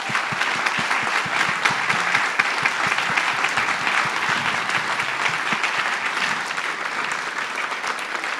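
Audience at a Coquitlam all-candidates meeting applauding the candidates, a dense, steady patter of clapping from a sizable crowd lasting the whole stretch.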